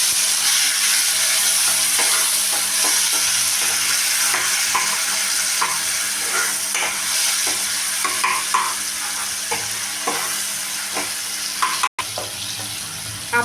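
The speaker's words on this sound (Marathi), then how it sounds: "तेलामध्ये चांगला टमाटर भाजून घेऊ." Tomato pieces sizzling and frying in hot oil with garlic, stirred steadily with a spoon, giving continuous crackling with frequent scraping stir strokes close by, no one speaking.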